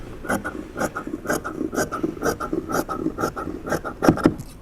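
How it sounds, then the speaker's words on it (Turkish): Scissors cutting the back piece of a fabric vest pattern with a bust dart, a steady series of close, crisp snipping and rasping strokes at an even pace with no talking. "Bakın arkayı kesiyorum."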